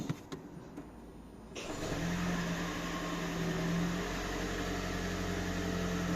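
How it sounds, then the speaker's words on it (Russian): Toyota Prius Alpha engine starting after a spark plug replacement: a few clicks, then at about a second and a half the engine catches and settles into a steady, close idle hum with no talking. "Сейчас проверю, как заводится."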